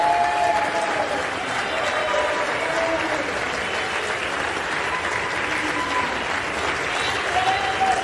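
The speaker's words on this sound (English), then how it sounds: "They go from screaming shame to clapping and giving a standing ovation" A chamber audience gives a standing ovation, a dense and continuous roar of clapping with a few scattered voices mixed in, steady and loud from start to finish.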